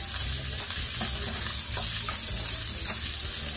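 Onions frying in a pan for beef salpicao, a steady close sizzle with faint stirring scrapes running throughout, no talk.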